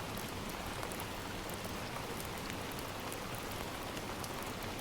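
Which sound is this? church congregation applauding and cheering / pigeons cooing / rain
rain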